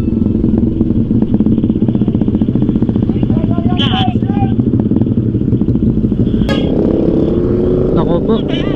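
A motorcycle with an open exhaust pipe at a checkpoint, its engine note rumbling loudly and continuously close by, with a few sharper bursts and rattles, while voices talk throughout.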